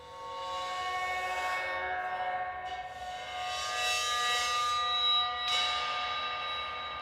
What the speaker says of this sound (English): I am going to be recording bowed suspended cymbal